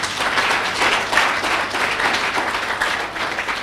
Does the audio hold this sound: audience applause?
yes